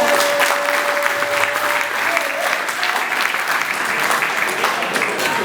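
An audience at the Parole d'Or speaking competition applauds in a dense, steady burst of clapping that holds at full strength for several seconds.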